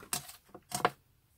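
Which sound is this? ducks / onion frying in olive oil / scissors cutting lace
scissors cutting lace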